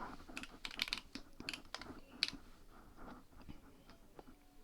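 Rapid clattering keystrokes on a computer keyboard, irregular bursts of sharp clicks close to the mic over a quiet room, with no talking.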